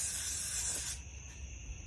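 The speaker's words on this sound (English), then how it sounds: "Again, you spray it really well" Cooking spray is sprayed into a pie iron in a steady loud hiss for about a second, then cuts off, leaving a quiet room with a faint tone.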